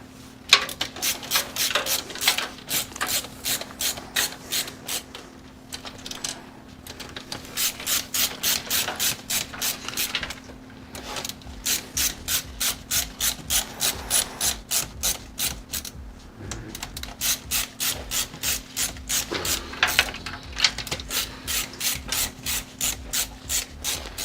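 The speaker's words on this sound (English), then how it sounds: "so getting those fans tightened down" PC case fans being screwed down onto a radiator during a Celestial Flora Horus build, giving close, steady runs of rapid ratcheting clicks in repeated bursts with short pauses between them.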